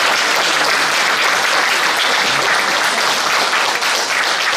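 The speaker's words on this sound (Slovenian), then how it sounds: "Velik aplavz." An audience gives a sustained round of applause at a concert by a male choir, with dense steady clapping throughout and no voices over it.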